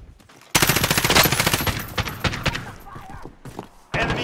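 Rapid automatic assault rifle fire in Warzone, a loud sustained burst of closely spaced shots followed by scattered single cracks and a short final burst.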